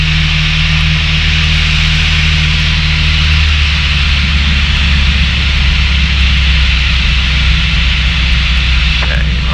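A light aircraft's piston engine drones loud and steady inside the cockpit while throttled back for descent, its pitch dropping partway through, with a broad wash of wind and cabin noise.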